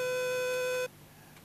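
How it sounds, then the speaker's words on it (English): A steady dial tone from a 1989 Ptarmigan SCRA army radio telephone, one continuous pure tone with harmonics that holds for under a second and then cuts off abruptly, leaving quiet line hiss. "To make a call, simply go off hook and wait for the dial tone."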